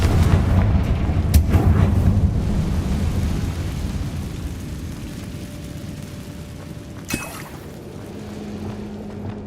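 In the video game Hogwarts Legacy, the Confringo fire blast spell bursts with a heavy boom that rumbles and fades, followed by a sharp crack partway through and a low hum at the end.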